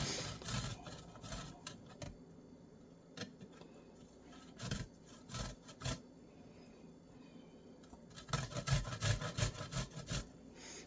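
Food being grated on a hand grater at home, with bursts of scraping, rasping strokes that are faint and irregular and come in clusters separated by short pauses.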